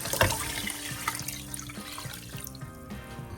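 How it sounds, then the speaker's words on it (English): About five cups of water pour steadily into a pot of sweet sticky rice that has soaked for thirty minutes, a continuous splashing, faucet-like stream heard close up with no voices. "To this, I'm going to add about 5 cups of water."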